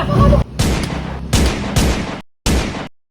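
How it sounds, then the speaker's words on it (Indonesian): Several loud, close gunshots in a staged wartime scene, sharp broadband blasts coming in quick bursts with brief gaps between them. "Tembak saja dia."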